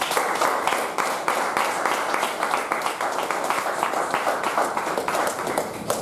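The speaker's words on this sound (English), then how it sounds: "let's give a big round of applause for these leaders who have joined us here" A roomful of people at a Toastmasters club's 350th meeting claps steadily for their leaders, a dense, even patter of many hands lasting several seconds at moderate volume.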